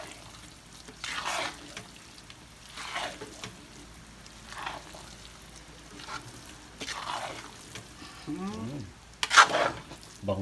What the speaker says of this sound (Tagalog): Tapos haluin ulit natin.